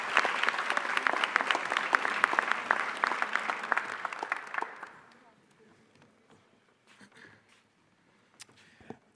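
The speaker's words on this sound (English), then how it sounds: "Please join me in applause." An audience claps loudly at a college honor society induction ceremony, dense applause that fades out after about five seconds into a quiet room with faint rustling and a few stray sounds.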